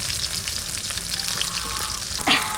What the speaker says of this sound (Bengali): মাছ ভাজা হয়ে গেছে, এটা তুলে নেব।